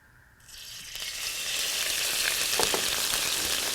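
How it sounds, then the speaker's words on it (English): Fat skimmed from turkey braising liquid hits a pan on medium-high heat, a close, loud hiss that swells within a second and holds as a steady bright sizzle, alone with no talking. "I have the pan here on a medium-high heat. About 3 tablespoons of the fat from the braising liquid."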